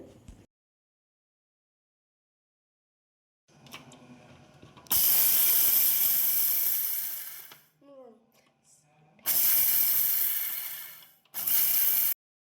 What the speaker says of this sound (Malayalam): അപ്പോൾ നമുക്ക് ഒന്ന് പൊടിച്ചെടുക്കാം കേട്ടോ അപ്പോൾ ഇതൊന്ന് ജസ്റ്റ് ഒന്ന് ക്രഷ് ചെയ്യേ ആവാവൂ അങ്ങ് അരഞ്ഞു പോവരുത്